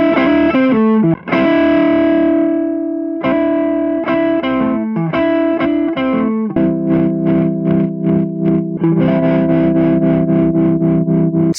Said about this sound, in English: The final result is not only an alternating volume, but an alternating amount of distortion too, giving it almost like a wah kind of effect